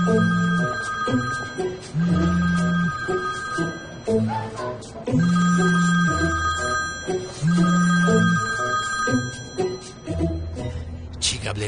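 An old landline telephone rings with a bright metallic bell in repeated bursts separated by short pauses, loud and close in a room.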